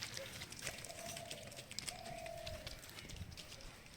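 Pigeons feeding on wheat grain outdoors, soft cooing and faint fluttering over a rustling background, with a voice talking faintly underneath.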